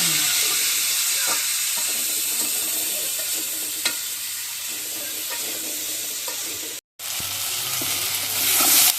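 New potatoes and eggplant frying in a pan give off a continuous loud sizzle with occasional crackles, broken by a momentary silent gap near the end before the hiss resumes, no voices.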